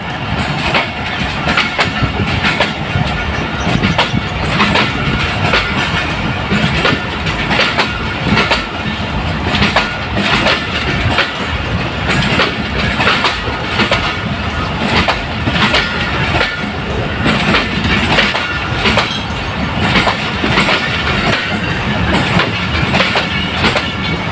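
A train at Ghotki railway station rolls past, loud and close, its wheels clattering in a continuous rhythmic clickety-clack over the rails.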